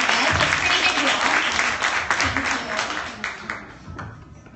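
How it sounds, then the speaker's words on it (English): Applause from a gathered audience at a weekly business training meeting in Marysville, Washington, a dense steady patter that thins and fades toward the end. "Can we give her an applause, please?"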